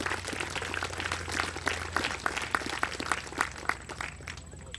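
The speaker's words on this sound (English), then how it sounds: "How about a nice round of applause for Alan Hickenbottom." An outdoor crowd at a sheepdog trial finals applauds a handler with steady, scattered clapping that carries throughout, without any voice over it.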